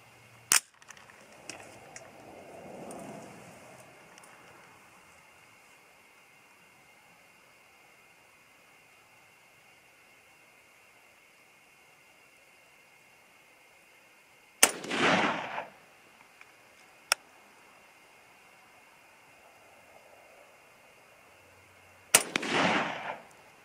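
Two sharp, loud 5.56 rifle shots from a 24-inch-barrel varmint rifle firing Hornady 60 grain V-Max, spaced several seconds apart, each with a short echoing tail over a quiet outdoor background with faint rustling.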